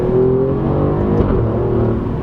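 Alfa Romeo Giulia Quadrifoglio with its 2.9-litre V6 engine, revving loud and close with a steady, rising throaty drone, heard alone with no talk.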